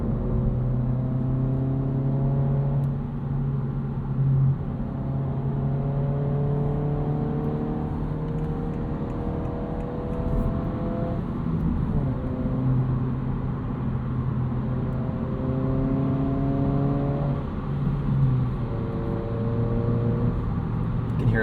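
A 2025 Honda Civic Si with a 6-speed manual, driven in sport mode through city traffic, pipes a steady synthesized engine drone into the cabin, its pitch rising and falling with each gear change over constant road rumble.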